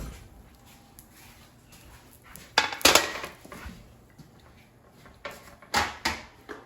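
A pan of roasted delicata squash taken out of the oven, with soft kitchen shuffling followed by a few close metallic clanks and clatters of the pan against the rack and oven, without speech.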